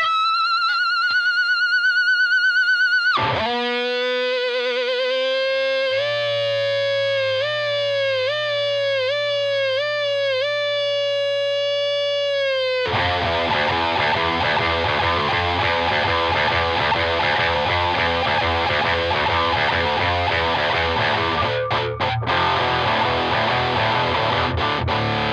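Loud, screechy Manson MA Evo electric guitar with XY pad effects: wailing, siren-like bends and swoops, then a dense, distorted, sustained wall of sound.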